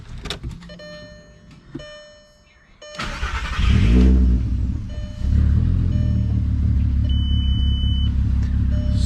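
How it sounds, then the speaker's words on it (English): A warm VW MK4 GTI with a 24-valve VR6 engine cranks and catches, then settles into a deep, loud rumbling idle with throttle blips, close by, after a quiet stretch of key and cabin clicks. "we're just gonna give it a quick start because it's still warm, so I can rev it if I want to."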